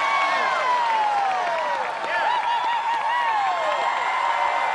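A large audience at an American Ninja Warrior event cheers, whoops and applauds without pause, a dense, loud roar of crowd noise mixed with high shouts.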